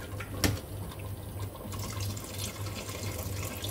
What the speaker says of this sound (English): So just need to add some water, Suresh, if you can.